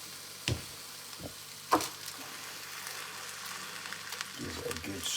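Chili chorizo with two tins of tomatoes is stirred in a pan on a plug-in hob, giving a few scraping knocks and a low bubbling sizzle throughout, fairly quiet and with no talking.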